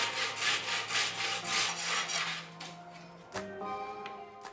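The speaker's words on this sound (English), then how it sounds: "And then I saw it off." Hand saw cutting through a wooden dowel in a quick series of close rasping strokes, which slow and stop, followed by a few faint knocks.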